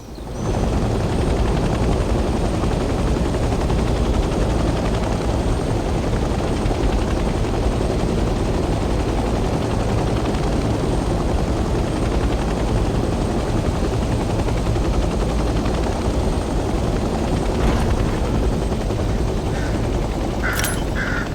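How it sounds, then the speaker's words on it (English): A helicopter hovers over a landing area in the Vietnam-era war game Hell Let Loose: Vietnam, with a loud, dense and continuous rotor and engine roar lasting the whole stretch and a few faint clicks near the end. "Adjust your forward and backward pitch to start hovering over the landing area."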